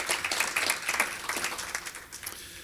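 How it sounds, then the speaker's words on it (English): Steady applause from an audience at a healthcare forum, with many hands clapping together at a moderate distance and slowly thinning out toward the end. "I think that's worthy of a round of applause too."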